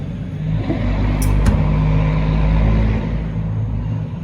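A loud truck rumbles past nearby, its deep engine drone swelling and holding steady for several seconds with no talking.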